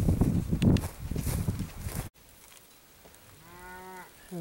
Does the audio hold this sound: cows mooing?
yes